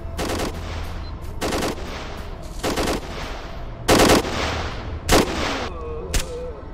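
Bursts of gunfire ring out in the S.T.A.L.K.E.R. Lost Alpha shooter: six sharp volleys, some short rattling automatic strings and some single loud cracks, spaced about a second apart over a quiet background.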